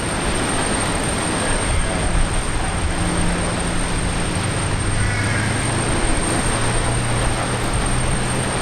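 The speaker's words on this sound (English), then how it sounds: "see an international arrival, a heavy arrival finally after." A heavy international airliner arrives at Brisbane Airport after flights resume following a cyclone, a steady broadband roar with low rumbling that holds loud and constant throughout, no voices.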